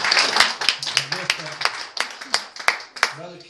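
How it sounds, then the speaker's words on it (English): Congregation at a Wednesday night revival church service claps hands in a steady rhythm, sharp claps about three per second, with voices and singing mixed underneath throughout. "A hand clap"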